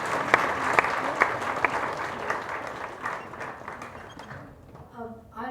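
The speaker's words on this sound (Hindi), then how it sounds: "तालियों से सभी का स्वागत किया।" Applause from an audience at an Ayurveda conference's honouring ceremony starts with several loud, distinct claps and then thins into scattered clapping, with a voice coming in at the end.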